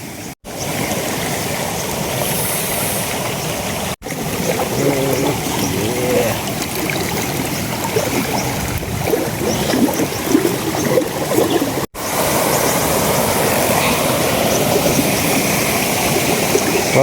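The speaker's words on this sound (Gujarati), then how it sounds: "પાણી ચાલુ થઈ ગયું ડાયરેક્ટ." Irrigation water rushes steadily through a channel in a farm field, a continuous close, fairly loud gurgling flow with a couple of brief dropouts, no talking over it.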